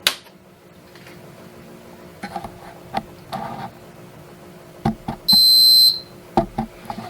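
A heat press gives a single steady electronic beep as it turns on, bright and clear, sounding for about half a second amid quiet background clicks and small thumps.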